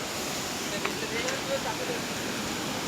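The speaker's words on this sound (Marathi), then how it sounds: "इकडं नदी आहे." A river flows steadily past a cremation ground, a continuous broad rushing wash with no break, heard outdoors with wind buffeting the microphone and a couple of faint brief sounds on top.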